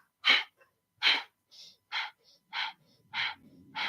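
Breathwork exercise with evenly balanced inhales and exhales, heard as a steady series of about eight close, breathy breath bursts spaced regularly, alternating in rhythm with short quieter gaps between them.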